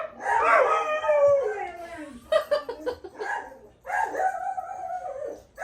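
Several dogs bark and howl nearby in uneven bursts, with drawn-out howling tones between sharper yips.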